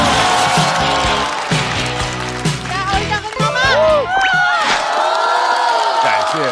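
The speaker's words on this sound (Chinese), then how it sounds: "掌声欢迎山河。" A stand-up comedy audience cheers and shouts as a comedian is welcomed to the stage, a loud burst of crowd noise with whoops and raised voices layered over music, fading toward the end.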